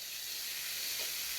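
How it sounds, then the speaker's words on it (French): Carrots sizzle in hot olive oil, a close, steady hissing fry that holds evenly throughout the short stretch with no voices. "j'ai mis mon huile. Je vais mettre mes carottes."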